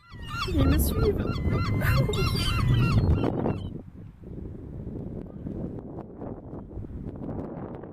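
Birds honking near a beach below cliffs, a loud burst of goose-like honks for several seconds that then stops, leaving wind rumble and faint surf-like noise.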